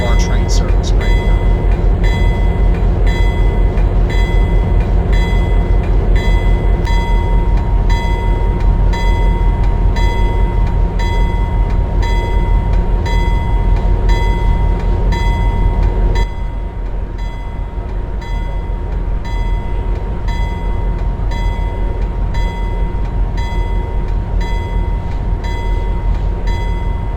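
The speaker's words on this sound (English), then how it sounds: "This is where the train terminates, so we're not over there." A Pennsylvania Railroad passenger train from 1965 rolls along steadily with a constant loud mechanical drone and tonal hum, easing slightly in level midway through.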